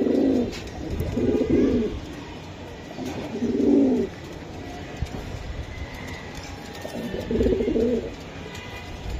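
A male and female pair of giribaz pigeons cooing up close, repeated soft low rolling coos in bursts of about a second, with light background noise.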